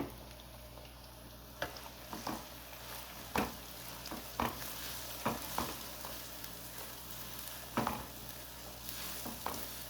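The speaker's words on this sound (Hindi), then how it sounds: "अभी हमने ये तेल जो है वो गरम कर लिया है और इसमें हम पहले अब प्याज को फ्राई करेंगे" Chopped onions frying in hot oil in a pot for biryani: a quiet, steady sizzle broken by irregular clacks of a stirring spoon, with no talking.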